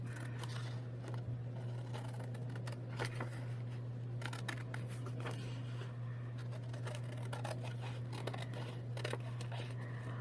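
Scissors trim a fabric butterfly in repeated short snips and crisp cuts. The snips are quiet and close over a constant low electrical hum, with no talking.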